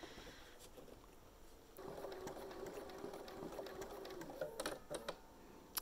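A sewing machine thread painting a mandala with Aurifil thread runs in a steady, rapid stitching whir that starts after a quiet moment and carries on to the end, faint and close, with a few clicks near the end.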